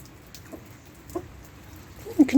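Backyard chicken clucking in wet weather, a few short soft clucks spaced apart, then a louder burst of clucking close by at the end.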